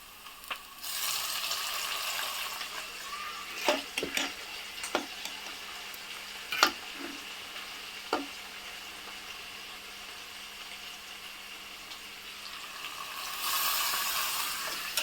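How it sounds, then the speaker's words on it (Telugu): Goat tripe (boti), already mostly cooked, deep fries in hot oil with a steady, loud sizzle and bubbling throughout, broken by a few sharp ticks and clinks near the middle, then swelling again toward the end. "మనం ఎలా డీప్ ఫ్రై చేస్తాం కాబట్టి"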